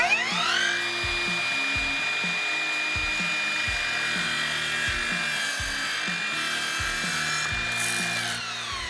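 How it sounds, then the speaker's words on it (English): An Evolution 40V cordless miter saw cutting high density polyurethane, its high motor whine running steadily with a repeated rhythmic low thumping pattern beneath, the motor winding down at the end. "no issues at all going through that high density polyurethane"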